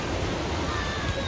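Sea waves break on a beach at Władysławowo, a dense, steady roar of surf mixed with wind rumble on the microphone, loud and continuous.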